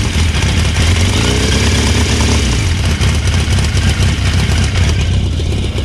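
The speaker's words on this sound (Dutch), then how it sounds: "We gaan dus even kijken hoe dat motortje klinkt." A loud, close motorcycle engine runs steadily at idle, a rough continuous chug with no talking over it.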